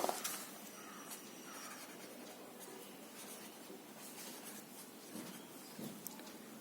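Writing on a board during a sixth-grade maths lesson on data handling: faint, continuous scratchy strokes with small taps, heard quietly and without any talk.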